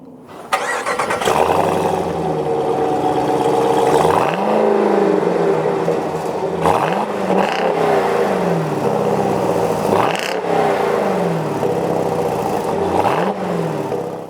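A 2018 Jeep Grand Cherokee Trackhawk starts with a short starter whir, then settles into a deep, loud idle that swells into several rhythmic blips of revving, close to the vehicle, with no talking.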